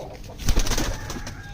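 A pigeon gives a short, soft, low coo close by, one brief rounded call rising and fading over a quiet background, with no voices.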